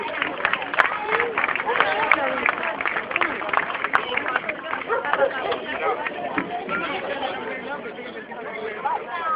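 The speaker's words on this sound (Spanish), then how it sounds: "Fuerte el aplauso." Audience applause at a Hanukkah candle lighting ceremony: dense, steady clapping from a crowd mixed with chatter and murmuring voices, continuous and fairly loud throughout.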